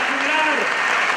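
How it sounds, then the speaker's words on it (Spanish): Audience applause for a debate panel on intolerance, a dense steady patter of clapping over a brief voice, filling the short moment. "primero un gran aplauso a este extraordinario,"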